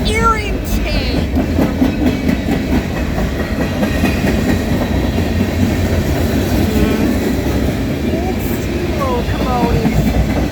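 Freight train locomotives rumbling past close by, loud and continuous with rhythmic wheel clatter and brief squeals, a voice talking faintly beneath.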